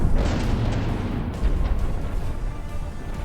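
Warships exchange heavy gunfire in From the Depths during a tournament battle. Loud, continuous booming and rumbling barrages overlap without a break, with no voices.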